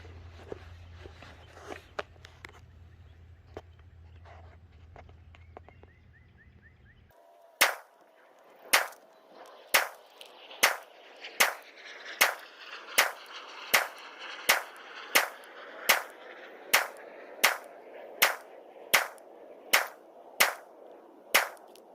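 A Ruger SFAR rifle with a muzzle brake fires a 20-round string of .308 on gas setting 2, sharp loud shots at an even, deliberate pace that echo outdoors, preceded by a few quieter handling clicks.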